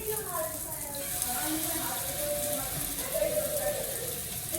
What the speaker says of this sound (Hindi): तो मैं इसको साथ साथ शैलो फ्राई करती रहूँगी।